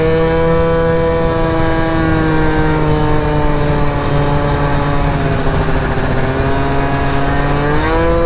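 Honda Elite DIO AF16 scooter with CVT upgrades being ridden, its small engine droning loud and close with a steady buzzing tone that rises and dips slightly in pitch as the throttle changes, wind noise underneath.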